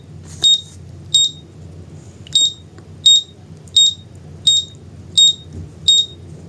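A rain sensor buzzer beeps repeatedly after its sensor gets wet: eight short, shrill electronic beeps at a steady, slightly uneven pace, loud and close, over a low background hum.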